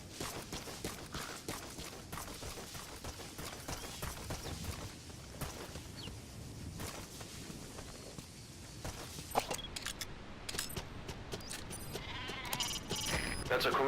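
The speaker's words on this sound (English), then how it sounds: "That's a Caracal sheep." Karakul sheep bleat in the video game Metal Gear Solid V: The Phantom Pain, with soft intermittent calls over footsteps and game ambience and a faint voice in the background.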